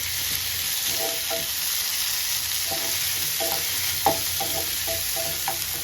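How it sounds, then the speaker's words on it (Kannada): Onion and tomato fry in a pan with a steady, faint hiss. Soft scraping stirs break in at irregular intervals, and there is no speech. "ಇದಕ್ಕೆ ಒಂದು ಟೊಮ್ಯಾಟೊ ಸೇರಿಸ್ತಾ ಇದ್ದೀನಿ. ಈಗ ನೀಟಾಗಿ ಫ್ರೈ ಮಾಡ್ಕೊಳ್ಳೋಣ."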